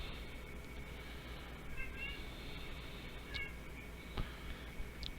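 A young male cat, a kitten, gives a few short, chirpy meows at bugs indoors, soft and fairly faint against a steady background hiss, with a sharper chirp near the end.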